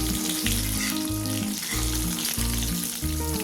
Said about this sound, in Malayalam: ഇനി ഇത് തിരിച്ചും മറിച്ചൊക്കെ ഇട്ടിട്ട് ഒന്ന് ഫ്രൈ ചെയ്തിട്ട് കോരി മാറ്റാം.